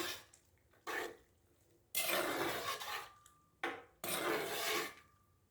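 Gravy for Jamaican pot roast pork being stirred in a pot, heard as three separate broad scraping, rasping bursts close up, each about a second long, with quiet gaps between them and no talking.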